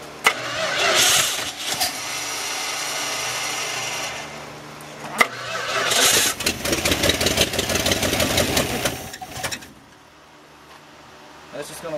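Car engine in a backyard garage project cranking in repeated bursts while the gas pedal is pumped, loud and close, catching and revving briefly before cutting out, with voices speaking over parts of it.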